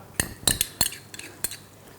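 Ham, sweet corn and a little butter go into a small hot plate pan, giving a few sharp metallic clinks and scrapes of a utensil against the pan, spaced irregularly and close by.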